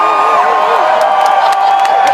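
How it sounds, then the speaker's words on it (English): Loud, dense audience cheering and whooping fills the whole stretch, a close, continuous roar of many voices with no pauses. "You wanna cheer right now like you just win diamond."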